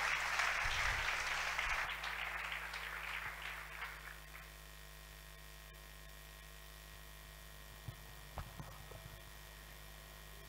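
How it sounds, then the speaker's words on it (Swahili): A church congregation applauding in praise of the Lord, a loud burst of clapping for about four seconds that fades out, leaving a low electrical hum and a few faint knocks. "Pendant qu'il approche, nous acclamons le Seigneur."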